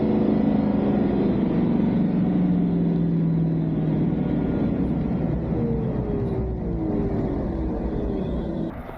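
A Chevy Duramax pickup's diesel engine labors while towing a heavy load up a 7% grade, a loud continuous low droning roar with gradually shifting tone, heard from inside the cab.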